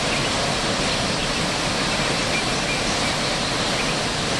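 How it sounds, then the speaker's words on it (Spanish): Waterfall at the Laguna del Hundimiento in Ruidera, a dense, constant roar of falling water, loud and close, with no voices. "La cascada del hundimiento"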